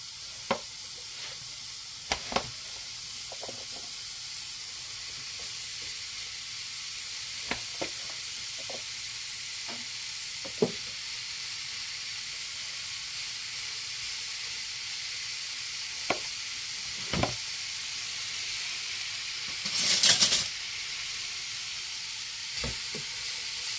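Apples being added to a sizzling pan for apple pies, a soft steady sizzle throughout, punctuated by sparse sharp clicks and taps of pieces and utensils, with a brief louder hiss burst near the end.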